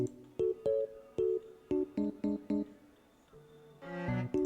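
A song run through BandLab's Fire mastering preset, with punchy plucked or keyed notes in short rhythmic stabs over a low bass line, ending in a denser, brighter swell.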